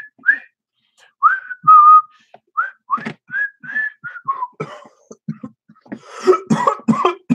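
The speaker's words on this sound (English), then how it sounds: "whistling the theme right now" Someone whistles a short melodic tune up close, the notes breaking off into coughing and throat clearing toward the end.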